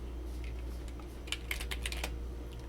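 A computer keyboard is typed on in a short burst of quick, close clicking keystrokes over a steady low room hum, with no talking.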